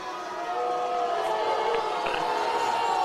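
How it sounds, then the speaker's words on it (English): Football crowd at a high school game between Albert Lea and Tri-City United, a broad steady roar of voices that swells slightly after a personal foul call, with faint whistle-like tones above. "The crowd doesn't like it"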